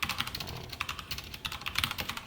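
Code being typed on a computer keyboard during a Python web-scraping lesson, heard as rapid, irregular clicks in bursts, fairly close and alone with no talking.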